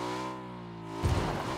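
A motorcycle engine in PUBG hums with a steady harmonic drone that shifts in pitch, then a rough burst of noise breaks in near the end, close and moderately loud.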